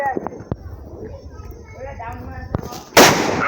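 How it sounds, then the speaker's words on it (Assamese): Several sharp Diwali firecracker bangs pop at irregular intervals, ending in a loud, crackling burst, with a voice faintly talking underneath. "এইখিনি ফটকা মই একেবাৰে দিবলৈ ওলাইছোঁ"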